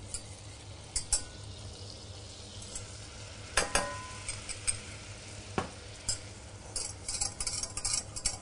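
Butter and flour stirred together in a pan as a roux for béchamel, with faint steady sizzling under scattered scraping and clinking of the utensil against the pan.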